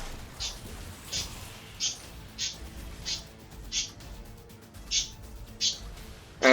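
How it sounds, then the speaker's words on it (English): Pet birds chirping indoors in short, regular bright bursts about every half second to second, fairly close and moderately loud, with no talking over them. "birds are going nuts because they can hear birds outside"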